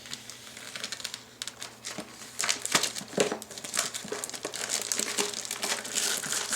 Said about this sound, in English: So let's grab scissors and start cutting. Cut the plastic off here.